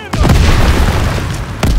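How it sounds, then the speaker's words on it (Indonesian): A thrown bomb explodes in Call of Duty: WWII, a loud close boom that sets off a long rumbling roar, followed by a second sharp blast near the end. "kita lemparin bom langsung"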